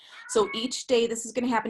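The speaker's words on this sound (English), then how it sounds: "my cat's meowing" A house cat meows insistently from behind a closed door, its short, whiny cries overlapping a person speaking nearby.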